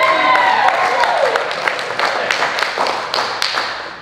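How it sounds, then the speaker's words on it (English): An indoor audience applauds at a coaching event, with bright clapping that starts dense and loud, then thins into scattered claps and a few separate taps before fading. "Give Chris another round of applause."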